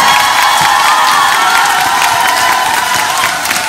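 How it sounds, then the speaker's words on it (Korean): Loud, continuous cheering and applause from an audience at a church community Christmas carol contest, steady clapping and whoops filling the room throughout. "큰 환호와 박수와"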